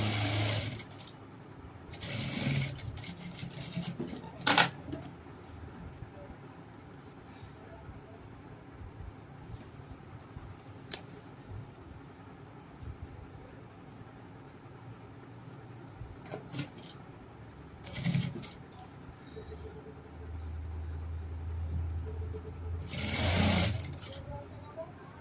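A sewing machine runs in several short bursts while stitching ladies' pants with a zip, the motor whirring close and moderately loud between quieter pauses with faint handling noises.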